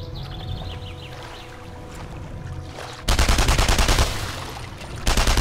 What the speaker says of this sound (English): How many times did I gotta fucking shoot him?